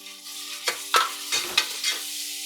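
Onions sautéing in a pan for mutton kulambu, a steady soft sizzle with several louder stirring scrapes spaced through it, close and moderately quiet, no voices.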